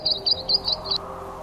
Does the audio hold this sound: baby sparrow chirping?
yes